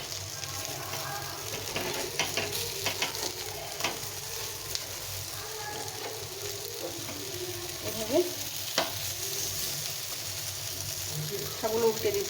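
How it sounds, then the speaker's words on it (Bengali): Flattened rice and carrot mixture frying in a pan: continuous sizzling with scraping and stirring clatter, and a voice speaks briefly over it. "এটা এখন উল্টে পাল্টে ভেজে নিতে হবে"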